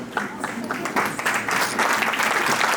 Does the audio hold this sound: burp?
no